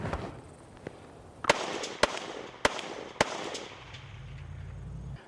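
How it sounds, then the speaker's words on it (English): FN P90 shots fired from behind vehicle cover, several sharp, loud cracks spaced about half a second apart, with one fainter shot before them and a steady low rumble beneath. "I take the vehicle as cover and take this shot."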